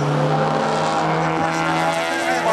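Race cars, among them a Mazda RX-8, run on a track at a Jamwest Racing event in Jamaica, their engines droning loud and steady with a rising whine and faint tire noise throughout.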